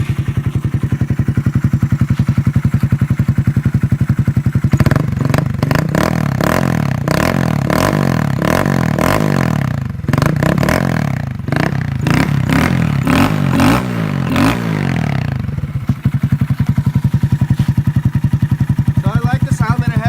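A 2015 Honda Grom OG with its stock exhaust idles steadily, then revs repeatedly in a series of rising, falling blips before settling back to a close, even idle; the bike is said to have a rattle.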